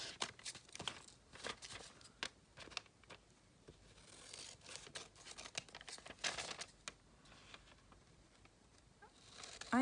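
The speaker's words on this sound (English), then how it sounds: "Now you can trim down with just your scissors." Scissors snip and trim around folded paper for a handmade junk journal cover flap, a run of quick crisp cuts and light paper rustles close by, with no talking.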